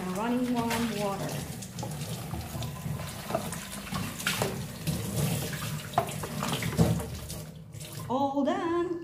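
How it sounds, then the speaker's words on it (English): Warm water runs from a tap while a plastic container is rubbed clean underneath it, a continuous splashing flow with intermittent scrubbing and shifting, fairly close, with brief background voices. "rub gently the container in a running warm water."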